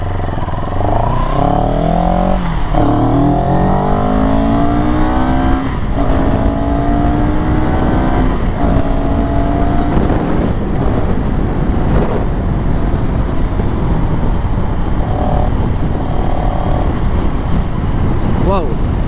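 A CFMOTO 700CL-X motorcycle accelerating hard, its engine note rising through several gears with brief dips at each shift, loud and close under heavy wind roar, with someone talking over it.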